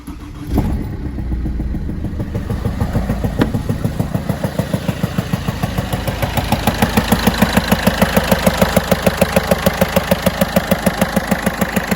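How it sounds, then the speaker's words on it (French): A rotary tiller's small engine starts with a sharp crank, then settles into a steady, fast chugging thump that grows slightly louder and more pronounced over about ten seconds, heard close up with no talking. "Alors, écoute-moi ce motoculteur."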